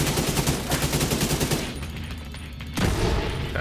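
An AK rifle fires in The Division 2, a loud close burst of rapid automatic shots in a steady rhythm, then a brief lull before the fire resumes.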